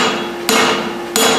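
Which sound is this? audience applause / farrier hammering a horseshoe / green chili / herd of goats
farrier hammering a horseshoe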